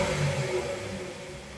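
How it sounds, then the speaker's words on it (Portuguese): A Jaguar 3.0 V6 car engine revs briefly up close, a mid-pitched rumble swelling then easing off over a second or so. "Vamos dar uma aceleradinha pra escutar o barulho do motor."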